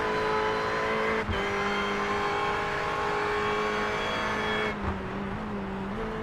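Sportscars from the Autobahn Sportscar Challenge race at Michelin Raceway Road Atlanta, their loud, continuous engine drone holding steady with brief dips as a car passes.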